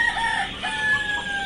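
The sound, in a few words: ducklings at a duck hatchery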